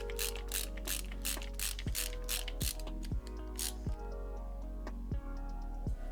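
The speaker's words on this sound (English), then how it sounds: "So now we need to attach these two pieces together using some M320 screws." M3 screws being driven to join 3D-printed parts on a Voron printer, heard as a steady low mechanical hum with rapid ratcheting clicks and several sharp snapping ticks, close and alone without talk.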